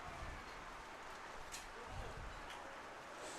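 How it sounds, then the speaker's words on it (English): Wind-driven rain at an outdoor fastpitch wiffleball game blows in under a broadcast booth awning, making a steady, dense wash of rainfall with soft gusty rumbles, continuous and fairly faint throughout. "The wind and the rain enough to be getting us wet here, even in the broadcast booth, blowing in underneath the awning."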